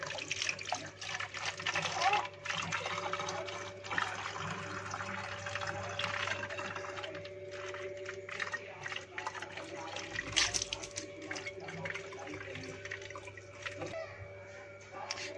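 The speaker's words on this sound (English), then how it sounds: "Now we pour the water in the plastic bottle." Water poured into a plastic bottle pierced with pin holes at different heights, a steady pouring and splashing wash that runs throughout at moderate loudness.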